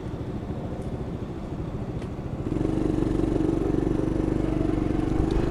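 A kick-start motorcycle engine idles with a fast, even putter, then picks up noticeably louder and steadier halfway through as it revs a little, heard close with no talk.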